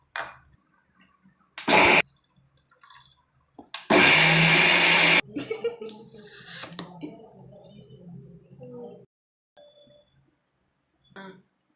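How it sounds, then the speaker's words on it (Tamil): A kitchen mixer grinder grinding coconut chutney gives two loud bursts, a short pulse and then a longer roar of about a second, with quieter handling noises between and after. "அதனால இப்போ நம்ம தேங்காய் சட்னி அரைக்க போகிறோம்."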